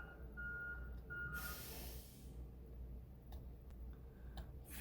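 Faint reversing beeps from a garbage truck picking up bins outside sound briefly over a low diesel rumble, then a burst of hissing air and scattered clicks and knocks follow, with no voices.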